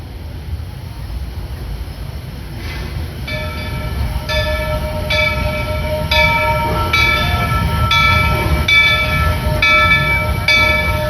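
The Walt Disney World Railroad train at Magic Kingdom rumbles steadily along the track while its whistle sounds a string of repeated blasts, loud and close.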